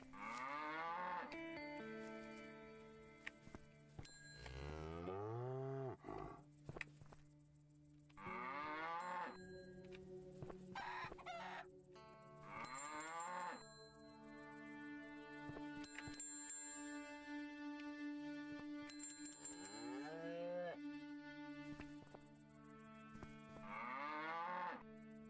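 A cow in the video game Above Snakes lets out repeated long, loud moos in a series of drawn-out calls, alone except for a faint tonal backdrop.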